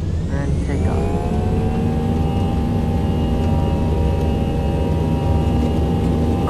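Airliner engines roar through a takeoff run in the FSX flight simulator, a loud steady broadband rumble with rising whining turbine tones, continuous throughout while someone talks over it.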